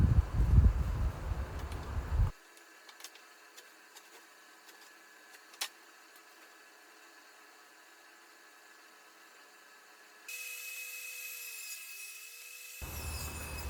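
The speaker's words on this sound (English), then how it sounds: "here I'm ripping down on the table saw the trim pieces that go on top" A table saw rips cedar trim pieces with a loud, harsh whine at the start, then goes almost silent before the cutting noise returns briefly at the end.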